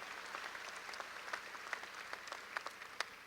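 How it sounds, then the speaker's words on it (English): Graduation audience applauding at a summer university commencement: steady, distant applause from a large crowd, faint and even, with a few sharper claps standing out. "you can applaud that"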